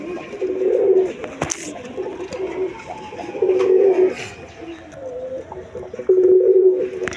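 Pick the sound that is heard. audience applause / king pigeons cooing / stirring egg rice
king pigeons cooing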